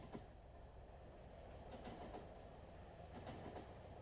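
Train in the Factorio video game rolling along rails, a steady mid-level rumble with faint rhythmic clicks of wheels over track joints, running continuously and alone without any talk.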